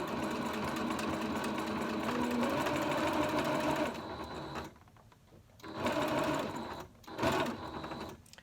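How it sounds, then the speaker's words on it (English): A sewing machine stitches denim jeans into shorts, running in a steady fast whir that pauses briefly, then gives two short reversing bursts for a back stitch, close and clear without talk. "So I'm going to sew all the way until this stitch meets where I began stitching. And I'm going to end with a back stitch."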